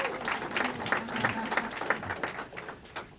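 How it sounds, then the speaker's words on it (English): Audience applause at a mayoral bill signing event, sustained clapping from a room of people with some crowd murmur underneath. "you all got to give her as much applause"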